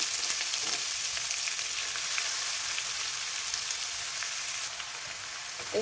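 Green papaya stirred into a hot pan for a Kerala-style thoran, producing a soft, continuous sizzle with faint stirring scrapes, close and even, easing slightly toward the end.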